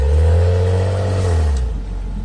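A Maserati SUV with a V6 engine and four exhaust pipes revs nearby on an offroad hill run, a loud deep engine drone holding steady and then easing off near the end.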